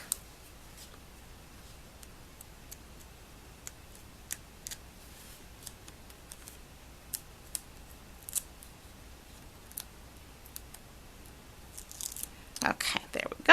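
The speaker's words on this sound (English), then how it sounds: "I'll just use my scissors to help" Scissors work at card paper, peeling it back on a handmade double slider card, with faint scattered clicks and snips throughout and a louder flurry of rustling cuts near the end.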